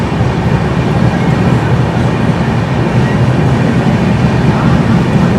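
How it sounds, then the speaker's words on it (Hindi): Rajdhani Express passenger train running on the main line past Bina Junction without stopping, heard as a loud, steady rumble with a continuous wheel-on-rail roar and faint clatter from close by, and no talk. "मेन लाइन से स्किप मार रही है अभी अपनी राजधानी बीना जंक्शन।"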